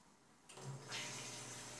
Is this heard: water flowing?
yes